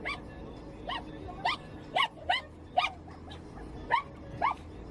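Dogs bark and yip repeatedly in a steady series, high-pitched and fairly close, over a low background rumble.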